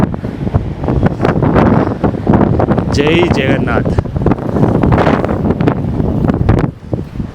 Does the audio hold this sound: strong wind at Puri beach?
yes